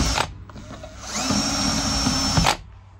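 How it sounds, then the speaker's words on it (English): Power drill boring into a worn Boss Plow RT3 Smarthitch 2 hitch part, a steady loud whine that runs about a second and a half with short bursts before and after. "I'm gonna drill that side a little bit more."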